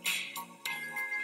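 Bright bell chimes from the puzzle game Hunie Pop ring out in a quick run of three or four tinkling dings, each one sharp and close with a short shimmering tail.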